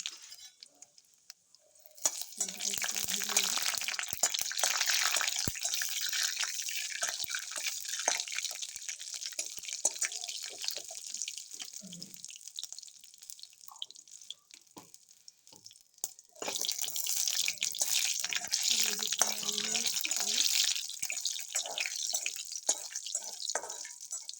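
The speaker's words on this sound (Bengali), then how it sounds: "গুটি কতক সর্ষে, আর এই শুকনো লঙ্কাটা দিয়ে আমি গরম তেল, হ্যাঁ তেলটাও বেশ গরম হয়ে এসছে, ছেড়ে দিলাম" Mustard seeds and dried red chili hit hot oil for dal, bursting into a loud, sustained sizzle with crackling and spattering, easing briefly before surging again and running on, with no voice over it.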